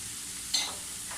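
Chicken pieces hit a pan of browned fried onions, giving a sudden sizzling burst that swells and then settles into a softer hiss, heard alone with no talking.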